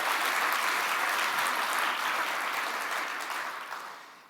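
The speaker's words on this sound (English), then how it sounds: "give a round of applause for everybody" A keynote audience at a summit breaks into loud, sustained applause that holds steady before gradually tapering off toward the end.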